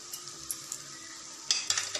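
Tomatoes with a little salt sautéing in a pan for Chettinad quail gravy, a soft steady sizzle that swells in the last half-second with a few louder stirring scrapes.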